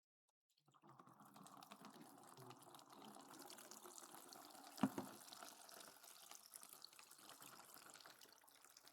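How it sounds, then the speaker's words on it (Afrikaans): Water poured into a cup in a small indoor setting, a steady continuous trickling and splashing that runs for several seconds, with a brief louder clink or splash partway through. "gaan gooi vir my water hierin."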